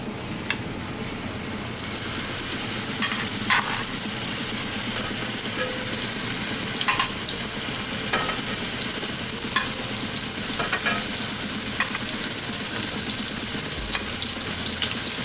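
Turkey meatballs dropped into a hot pan, a constant loud sizzle of frying with occasional soft thuds and scrapes as each one lands and gets moved around.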